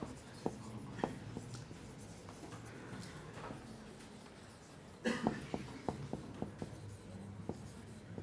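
Chalk or marker writing on a board during a French mathematics lecture, a series of short taps and strokes with a brief pause partway through, fairly close but quiet, with no talking.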